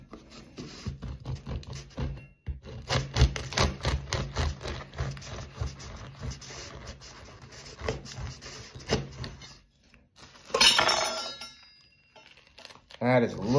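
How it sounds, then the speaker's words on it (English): Knife sawing through a woodfired long-ferment white loaf, a rasping back-and-forth scraping in repeated strokes, with a voice speaking between cuts. "Let's slice a little bit of it, a bit more first."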